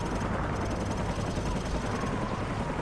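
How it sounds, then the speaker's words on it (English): Helicopter rotor drone in Call of Duty Modern Warfare Remastered, a loud, steady low throb that continues unbroken with no speech. "Take out that helicopter."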